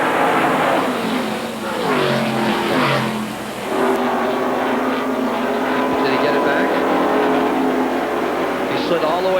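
Stock cars at the 1990 Daytona 500 roaring down the straightaway, a loud sustained engine wail with shifting pitch, with commentators talking over it throughout.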